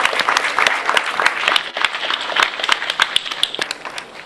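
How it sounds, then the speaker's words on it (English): A ceremony audience at an engineers' induction gives a loud, steady round of applause, dense clapping filling the room throughout without pause. "I think that you deserve a round of applause."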